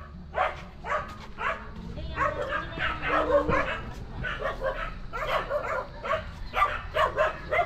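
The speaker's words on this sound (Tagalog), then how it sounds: "Nahabol to ng rabbit tong asong to." Repeated short dog barks and yips in quick bursts, fairly close, with people talking underneath.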